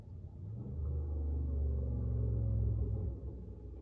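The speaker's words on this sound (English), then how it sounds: "one of my loud neighbors just came through the neighborhood with his car, which sounds amazing, by the way" A loud neighborhood car passes by with a deep, throaty engine rumble that swells to a sustained low roar and then fades away, heard alone without talk.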